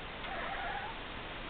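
A house cat meowing, a faint drawn-out mew over steady indoor background noise, with no one talking.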